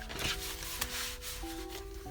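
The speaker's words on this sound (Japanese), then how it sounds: "合皮を切っていきます。" Synthetic leather being cut for a small no-sew phone bag made from kimono fabric scraps and Daiso materials, giving steady close scraping and rubbing strokes over a faint tonal background.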